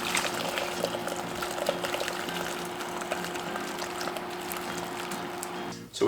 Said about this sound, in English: so now we're going to strain it off